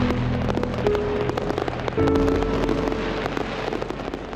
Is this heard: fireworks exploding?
yes